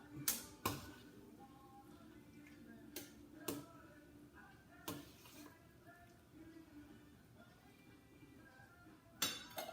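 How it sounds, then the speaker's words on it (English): A spoon stirs chicken soup in a pot, giving a handful of sharp clinks against the side spaced irregularly over a quiet background, fairly close but soft. "stir that up"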